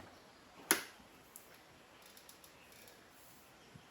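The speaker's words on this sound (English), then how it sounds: "So I'll push in my plastic rivet to the gas tank." A plastic rivet pushed into the gas tank of a Triumph Daytona 660 motorcycle gives one sharp click up close, followed by faint small ticks and handling noises in a quiet space.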